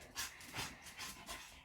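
Several dogs panting heavily just after a walk on a hot day, quick breathy puffs coming in rhythmic bursts, close and soft, with no talk over them.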